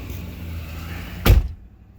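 A 2015 Ford F250 pickup door shuts with a single solid thud over the steady idle of the truck's engine, which keeps running at low volume afterward.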